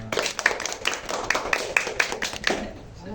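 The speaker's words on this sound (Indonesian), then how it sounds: "Tepuk tangan dulu dong buat kita semua." Clapping from a class audience after a school talk-show presentation, a short burst of uneven, scattered hand claps with sharp individual hits, fairly close and moderately loud, with a voice briefly mixed in.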